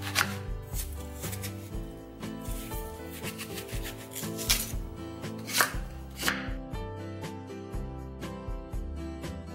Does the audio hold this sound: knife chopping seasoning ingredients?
yes